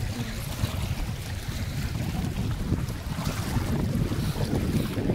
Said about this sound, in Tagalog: Grabe, unlimited hangin dito.